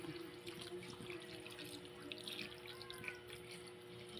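Water being poured into chicken afritada simmering in tomato sauce, a soft steady splashing that runs the whole time at low volume with no voices.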